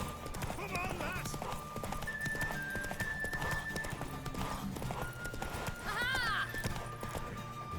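Hooves pound in a fast, steady gallop during a horse race in The Witcher 3, with a horse whinnying twice, layered under ongoing talk and game sounds.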